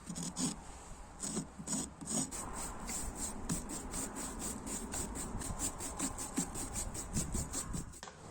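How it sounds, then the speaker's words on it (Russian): The back of a brush is scraped rapidly and repeatedly over a brick-look facade finish, knocking off excess grout in a steady, close rasping rhythm with no talk. "Нам необходимо срезать лишнее и при помощи кисточки все смахнуть."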